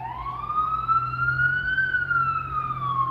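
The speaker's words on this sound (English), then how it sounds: "Baby, you gonna hear some sirens in New York, ain't you?" An emergency siren in New York wails from a distance, one long rising and falling tone over the low rumble of city traffic.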